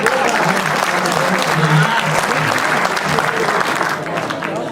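Loud, dense applause from a crowd at a Hindi poetry recital, steady hand clapping filling the whole stretch with faint voices mixed in beneath it.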